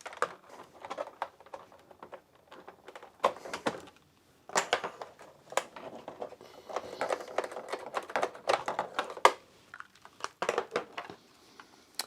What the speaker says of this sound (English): You take your keyboard and you plug it in where they were.